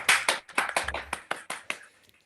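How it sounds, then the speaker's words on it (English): One person claps by hand in a room, about nine sharp, evenly spaced claps that soften toward the end. "So round of applause from me for young Hunter."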